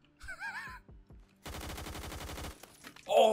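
Automatic gunfire in the online shooter game Phantom Forces, a quick burst of shots, then a longer rapid stream of evenly spaced shots, with game effects and a voice around them.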